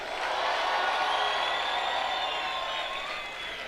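At a college graduation ceremony, a large crowd makes a loud, sustained roar of noise after a call for a resounding round of applause. It tapers slightly near the end, with clapping blended into the cheering.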